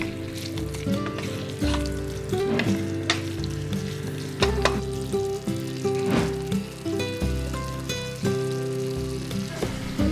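Ingredients stir-fry in a pan over low heat with a mixture of soy sauce, sake, mirin, sugar and potato starch, a continuous close sizzle with occasional stirring that plays under steady tonal background music.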